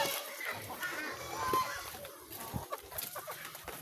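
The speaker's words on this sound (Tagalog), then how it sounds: "Ano naman itong manok dito?" Chickens cluck faintly on a small farm where pigs are also kept, soft scattered calls under steady background noise and some distant voices.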